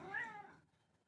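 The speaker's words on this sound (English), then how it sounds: "Could you hear my cat meow in the background?" A pet cat gives a single drawn-out meow in the background, faint and somewhat distant, fading into near silence.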